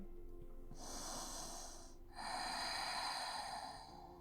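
Deep breathing during a yoga pose, with a long audible inhale followed by a heavier, airy exhale, close and clear with no talking.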